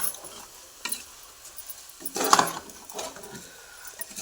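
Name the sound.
rice frying in oil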